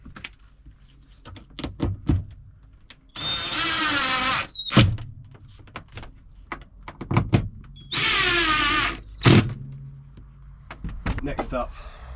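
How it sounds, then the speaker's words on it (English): A power drill drives screws into a cabinet inside a Ford Transit Custom camper van: two sustained whirring bursts of a few seconds each, up close, with knocks, thumps and handling clatter between them. "So let's start screwing this down."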